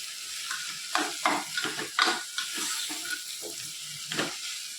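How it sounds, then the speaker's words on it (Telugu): Toor dal fries in hot oil for a tempering, a steady close sizzle broken by repeated scraping stirs of a spoon against the pan, with no talking. "ఈ కందిపప్పు వేగడం వల్ల ఈ ఆయిల్లో మొత్తం ఈ పోపులో వేగితే చాలా టేస్టీగా ఉంటుంది పప్పు"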